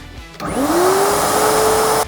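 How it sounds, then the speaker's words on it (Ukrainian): A Bosch Professional GAS 15 PS construction vacuum cleaner switches on, its motor whine rising quickly into a steady, loud, close roar that holds for about a second and a half. "вмикаємо наш пилосос"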